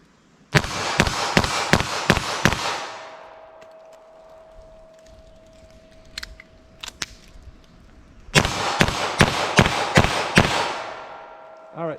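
A .22 Magnum revolver fires at a target in two loud rapid strings of about six shots each, separated by a quieter pause for a speed-loader reload.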